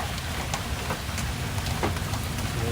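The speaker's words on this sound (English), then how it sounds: "Just hail here and there now, and now mostly rain." Heavy rain pouring on a house during a summer storm in the southern Midwest, a loud, dense, steady roar with occasional sharper hits from large hailstones.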